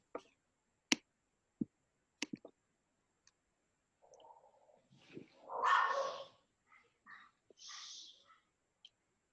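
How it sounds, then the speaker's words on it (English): A pet dog gives a few short, sharp barks in a room, spaced out and fairly faint, with no one speaking over them. "Sorry about my dog."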